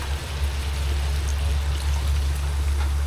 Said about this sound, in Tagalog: lalagyan na natin ng gata at saka tubig